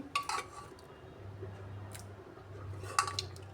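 Boiled soybeans and kidney beans are scooped from a pressure cooker into a bowl: a few soft, wet squishes and light clinks of a spoon against dishware, with a low hum underneath and a sharper clink near the end.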